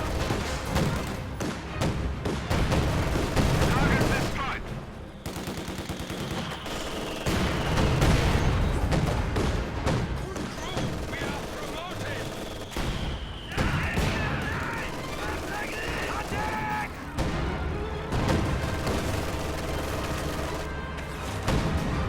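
Dense battlefield din from a strategy video game, with incendiary bombing runs, rolling gunfire, thuds and booms layered continuously throughout, loud and busy, with a whistling sweep partway through.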